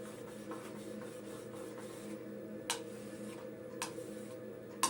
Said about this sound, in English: You could do a few, 5 to 10 long strokes against the stone.